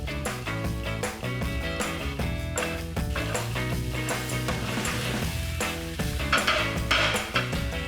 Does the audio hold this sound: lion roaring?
no